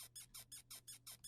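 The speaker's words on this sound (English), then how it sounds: "It's basically like a door squeaking sample." A sped-up, pitched-up door-squeak sample, panned left and right, repeats as about seven quick, evenly spaced squealing chirps, faint and alone.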